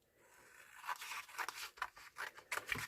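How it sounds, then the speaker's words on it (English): Scissors snip around paper craft tags in a series of short, close crisp cuts and rustles that grow from a faint start into quick irregular bursts, quiet overall with no voices. "now I can just cut round these tags"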